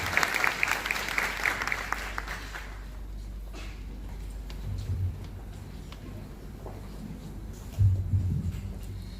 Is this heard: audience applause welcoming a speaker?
yes